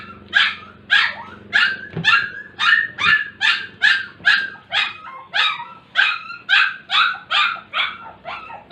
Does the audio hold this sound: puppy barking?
yes